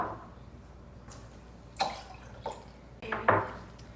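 Water, one and a half cups, is poured into a medium-sized bowl in a home kitchen: soft splashing and liquid trickle with a few clinks of the bowl, quiet and close.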